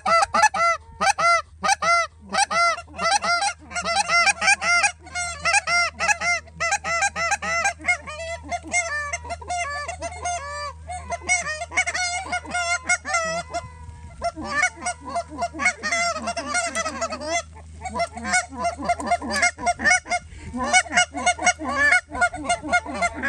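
A dense flock of Canada geese honks loudly and without a break during a goose hunt on Prince Edward Island. Many overlapping calls sound close by and carry on throughout.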